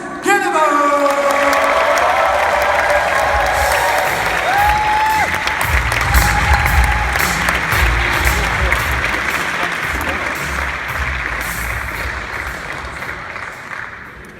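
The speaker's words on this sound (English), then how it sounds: "Massive round of applause for Chris Guillebeau!" Conference audience at World Escape Day applauding and cheering Chris Guillebeau, a loud burst of clapping and whoops that holds for several seconds, then slowly thins out and fades.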